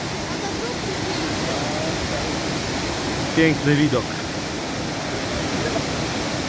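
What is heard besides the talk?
waterfall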